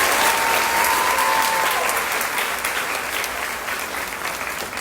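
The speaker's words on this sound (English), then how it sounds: "let's give them one more big round of applause" At an apple festival queen's contest, a crowd gives the judges a big, loud round of applause that stays full and steady, tapering only slightly toward the end, with a brief whistle early on.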